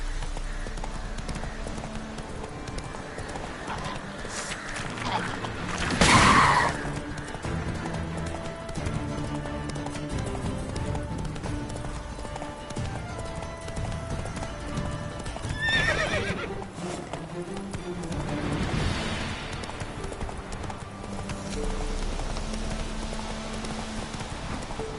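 Roach the horse galloping in The Witcher 3, hooves clip-clopping steadily at a moderate distance, with a loud neigh near the start and faint rain-like hiss in the background.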